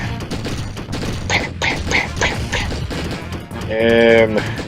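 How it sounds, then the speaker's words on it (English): Video game gunfire rattles in a rapid, continuous stream of shots and impacts, loud and steady, while someone talks over it. "You can just shoot at them normally, and it works just as well."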